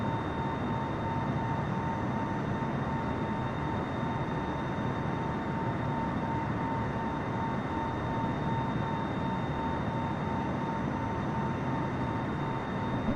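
Aircraft engine climbing in PUBG, a constant even drone with a steady tone and broad rumble, unchanging throughout and heard alone.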